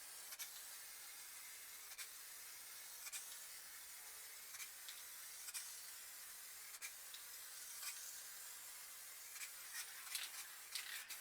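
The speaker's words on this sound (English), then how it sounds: "So I'll just grab the clear coat and give it a quick spray." A spray can lays clear coat over a finished piece of spray paint art: a faint, steady hiss with small clicks and pulses, no voices.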